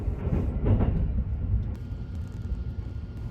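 The Sunrise Seto sleeper train rumbles into Numazu Station and slows, a low heavy drone with faint rhythmic clatter fading into a steady idle hum.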